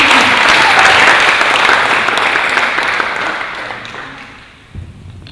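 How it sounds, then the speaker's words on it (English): Dense audience applause at an international hall event, sustained and loud, thinning toward the end with a few louder claps near the close. "Can we have a round of applause for them?"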